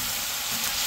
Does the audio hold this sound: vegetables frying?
yes